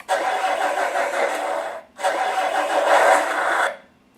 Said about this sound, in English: it's just that cold start sound